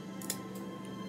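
A couple of quick, faint scissor snips trim excess fabric from a Barbie-size retro dining room chair, close and brief against quiet room hum.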